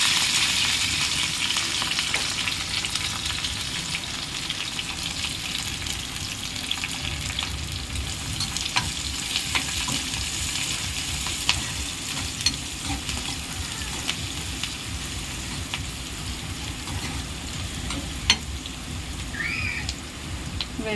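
Garlic, curry leaves and onion frying in oil for a bitter gourd curry, a steady hiss and sizzle that runs without a break, punctuated now and then by light stirring clicks.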